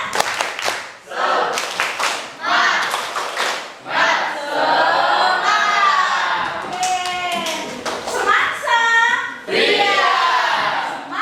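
Schoolchildren in a classroom clap their hands in a rhythmic, patterned routine led by the teacher, loud bursts of claps alternating with excited children's voices chanting and shouting along.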